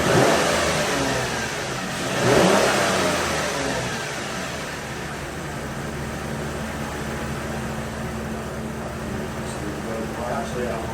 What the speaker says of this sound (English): Actually, I want to get up to just hold it at a higher RPM.